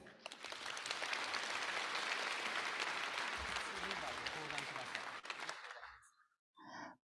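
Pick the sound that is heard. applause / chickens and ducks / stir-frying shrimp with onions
applause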